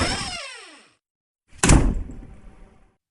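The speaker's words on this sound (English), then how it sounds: "and that door flew open too." Sound effect of a door flying open in a horror story: a sliding whoosh fades out, then after a short silence a sudden loud bang with a rattling tail that dies away, heard alone.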